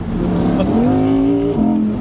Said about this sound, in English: this is a car that just wants you to rev it out